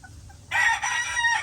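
A gamefowl rooster of Hatch Grey or Gilmore Hatch stock crows in a backyard breeding yard, one loud, close crow lasting about a second after faint clucks.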